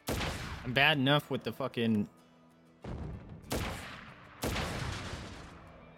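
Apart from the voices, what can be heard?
gunfire in Crisis Core: Final Fantasy VII Reunion video game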